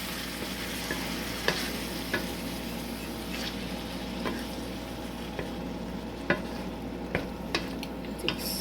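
Canned fire-roasted tomatoes with garlic bubbling in a pan on lowered heat, a steady close sizzle broken by small irregular pops and spoon taps throughout.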